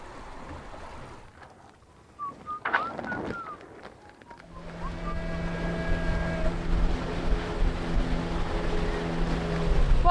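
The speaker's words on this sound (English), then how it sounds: "Boy, there's an ice cream boat." A motorboat engine drones and grows louder as it approaches at sea, with water sloshing and a faint wind beneath; a brief bird call earlier.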